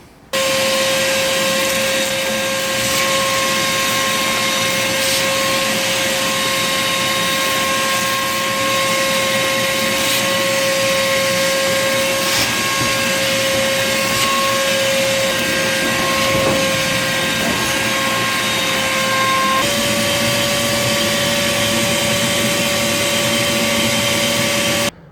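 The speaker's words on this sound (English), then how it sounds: "Alright, I'm going to turn the vacuum on and see how it does now." A vacuum cleaner runs steadily for about twenty-five seconds, giving a loud, constant whooshing roar with a steady whine. Its pitch shifts slightly near the end before it cuts off, and no one speaks.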